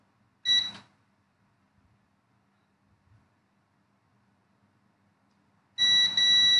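A digital multimeter's continuity buzzer sounds two short, shrill electronic beeps, well apart and separated by near silence, while a capacitor is probed in mobile phone repair work.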